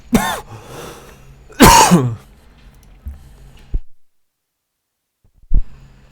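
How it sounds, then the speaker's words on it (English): Two sharp coughs burst out close to the microphone, followed by a brief throat sound and a low thump, with quiet gaps between. "Sorry, I just coughed there."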